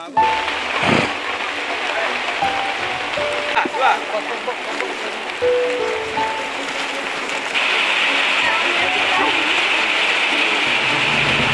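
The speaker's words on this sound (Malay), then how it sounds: "Tengah hujan lebat sekarang guys." Heavy rain pours steadily during a boat trip to an Orang Asli village, a loud continuous wash of drumming drops with occasional knocks and brief voices mixed in.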